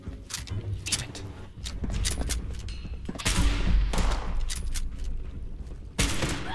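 Bursts of rapid gunfire crackle in the Fallout 76 video game, repeated loud volleys and single shots coming in clusters with little pause between them.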